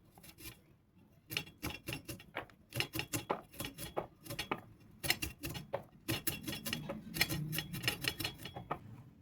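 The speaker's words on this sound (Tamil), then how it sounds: "இந்த மாதிரி மாங்காயை பொடியாக கட் பண்ணிக்கலாம்." Raw mango being finely chopped with a knife on a cutting board: a quick run of sharp, irregular taps close by, bunched into bursts with short pauses, and no talking.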